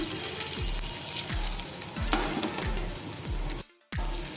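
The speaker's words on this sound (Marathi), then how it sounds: "थोडंसं आपण हे फ्राय करून घेऊया" An aloo-suji breakfast snack fries in a little oil in a pan, giving a steady close sizzle with soft stirring scrapes and a brief drop-out near the end.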